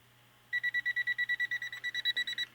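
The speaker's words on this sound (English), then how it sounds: "You hear that major beeping? That was my meter saying, you're going to burn me up." A multimeter's over-voltage warning, a rapid run of sharp electronic beeps, about fifteen evenly spaced pulses, sounds close and loud against a faint background hum.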